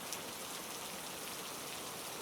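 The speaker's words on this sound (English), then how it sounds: "the sound of rain still filled my ears" Steady rain falls continuously in a dense, even hiss with no other sounds, moderately quiet and unbroken throughout.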